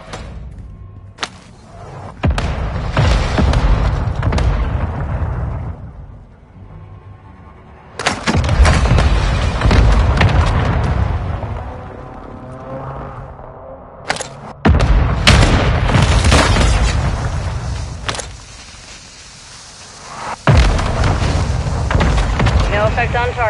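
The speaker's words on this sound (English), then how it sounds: "Mortar strike inbound now." Several heavy mortar strikes land in a video game, each a deep booming blast with a long rumbling tail, arriving in spaced bursts roughly every few seconds and loud against a quieter in-game background.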